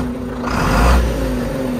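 A car engine idles steadily after new fuel injectors were fitted, swelling briefly in a rev mid-clip before settling back to a smooth, close idle hum with no talk.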